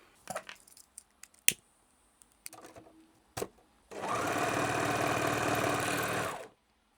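A few clicks and taps of handling, then a sewing machine runs in one steady, buzzing burst for about two and a half seconds before stopping.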